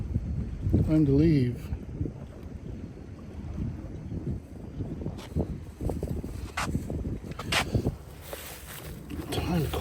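Wind picking up at a fishing state park beach in Dania Beach on a rainy, cloudy day, buffeting the microphone in steady gusts while someone talks over it.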